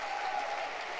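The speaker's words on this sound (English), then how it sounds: "Lots of clapping." Audience clapping at a Bellingham KAPOW event: a dense, steady wash of many hands applauding, moderately loud with no pauses.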